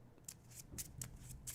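Cards of the Legendary Encounters deck game being shuffled at a table, a run of soft crisp riffling bursts repeating at short intervals, quiet and close with no talking.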